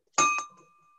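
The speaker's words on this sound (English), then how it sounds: "You're ringing your own bell." A single bell is struck once at a board installation ceremony, giving a bright, clear ping that rings on and fades slowly in an otherwise quiet room.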